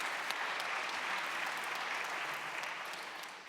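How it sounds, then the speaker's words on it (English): A large audience at a democracy dialogue event applauds steadily, dense, even clapping that holds at a constant level throughout. "a round of applause for Michael"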